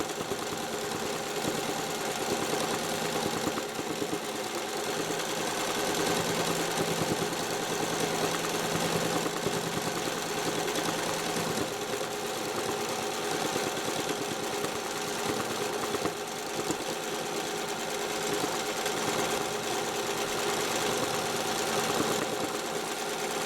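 A quilting sewing machine stitching through five layers of fusible fabric runs at a steady, fast, buzzing pace with a continuous rhythmic mechanical chatter and faint pops, close and even throughout, no talking.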